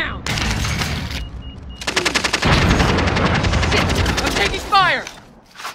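Gunfire in Call of Duty: Modern Warfare, loud bursts of rapid automatic fire in long rattling volleys, with a brief pause between them and a shorter sharp report near the end.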